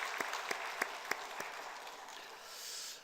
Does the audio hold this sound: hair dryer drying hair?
no